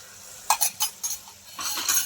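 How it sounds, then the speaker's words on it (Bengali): Dissolved Amul milk goes into a pan of cooking potol (pointed gourd), with a few light metallic clinks and scrapes followed by a soft, steady hiss of liquid meeting the hot pan. "এই যে দুধটা, আমুল দুধটা যে গুলে রেখেছি, এই দুধটা আমি এবার গুলে এরকম দিয়ে দেবো"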